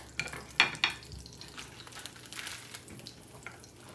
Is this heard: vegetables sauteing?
yes